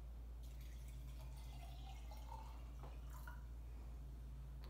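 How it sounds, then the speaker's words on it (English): Water trickles and pours into a glass over fruit for infused water, a faint, continuous burbling fill with light splashes, heard close over a low steady hum. "And then I'm going to top it with some water."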